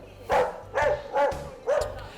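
A dog at a dog hotel barks four times in a steady rhythm, each bark sharp and fairly close, over a quiet room.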